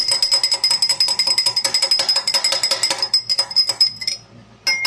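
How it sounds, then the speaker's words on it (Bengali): A spoon clinks rapidly and steadily against a glass while sugar is stirred into lemon sherbet, loud and close, slowing to a few scattered taps near the end. "চিনি নাড়াচাড়া করে দিচ্ছি"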